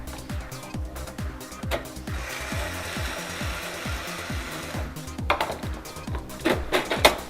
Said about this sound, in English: you simply remove the screw with a screwdriver and slide the side off